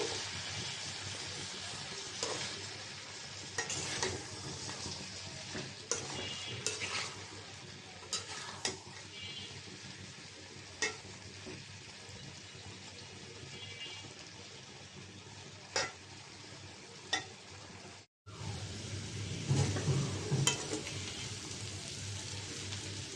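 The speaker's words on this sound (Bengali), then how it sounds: "আলুটা বাজা হয়েছে এই যে একদম লাল লাল করে ভেজে নিয়েছি" Cubed native potatoes fry in mustard oil in a pan, a continuous soft sizzle broken by repeated scraping stirs and light clinks of the spatula against the pan.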